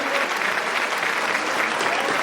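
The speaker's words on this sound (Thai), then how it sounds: "ขอเสียงปรบมือดังๆนะครับ" Steady crowd applause for a first-place award winner, a schoolgirl, at a Thai school event, dense even clapping that stays loud and continuous throughout.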